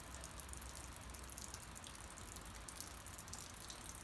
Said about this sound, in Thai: เสียงฝนตกลิ้น